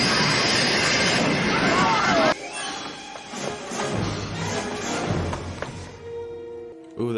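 A steam train sequence from the 1990 film Back to the Future Part III rumbles loudly at first, then cuts to quieter clanks and thuds as voices talk over the scene.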